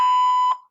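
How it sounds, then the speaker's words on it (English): A single loud, clean electronic beep of less than a second signals the start of recording on the US Department of State's voicemail comment line, then cuts off into silence. "Please leave your message after the beep."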